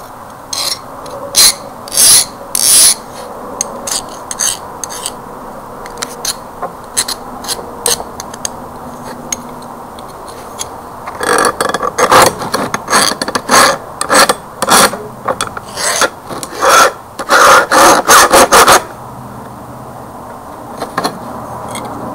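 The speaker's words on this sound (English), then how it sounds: "I go ahead and sand that off too" Steel shuriken blank hand-sanded to strip oily residue: harsh rasping strokes, sparse and scattered at first, then a dense, loud run of rapid back-and-forth scrubbing before it eases off near the end.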